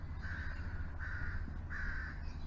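Crows caw three times in steady succession, each call drawn out and moderately loud, sounding somewhat distant over a low outdoor rumble on a farm where horses are eating hay.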